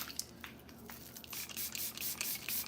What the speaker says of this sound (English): I'm going to spray my face one more time